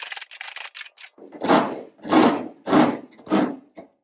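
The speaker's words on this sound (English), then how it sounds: "come back in with the file, get it super tight" A hand file rasps along the edge of a steel fender patch panel in several firm strokes, with a quick run of short scrapes followed by four longer, louder rhythmic passes, close-up and alone.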